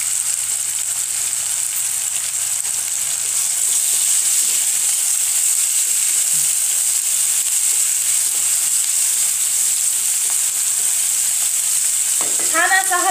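Ginger garlic paste fries in a hot pan, giving a bright, steady hiss that stays loud throughout, with a few soft stirring scrapes and a brief clatter near the end.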